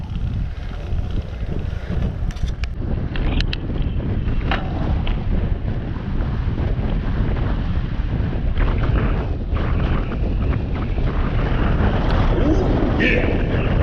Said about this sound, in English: A little windy out here, isn't it?